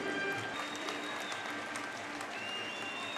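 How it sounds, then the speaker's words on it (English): A crowd at an ice hockey game between Glasgow Clan and Fife Flyers cheers and applauds steadily in a big arena, a dense wash of noise heard at a distance, rather faint, with no clear talking. "Well, we hear some cheering"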